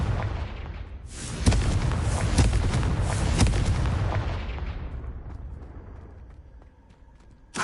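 Confringo blasting spell from the video game Hogwarts Legacy: a deep, loud explosive blast erupts after a second and rumbles on with crackling bursts for several seconds before fading away, ending in a faint sharp hit.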